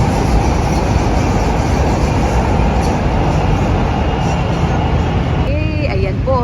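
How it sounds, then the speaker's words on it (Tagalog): Elevated train passing overhead between buildings near SM Megamall, a steady loud broadband rumble filling the whole stretch, with a few brief squealing tones near the end and no talk. "abangan natin yung tren na dumadaan po dyan sa taas"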